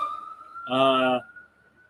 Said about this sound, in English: if you catch a siren in noise, I apologize.